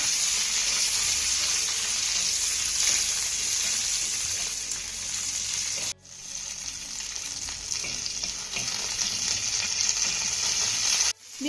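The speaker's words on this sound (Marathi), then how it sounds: "त्यानंतर ह्या मिरच्या आपल्याला डाग पडेपर्यंत चांगल्या भाजून घ्यायच्या" Green chillies roasting in a pan until blistered, for a grated bitter gourd dish, producing a steady, loud frying sizzle and stirring throughout, with two brief dips in the sound.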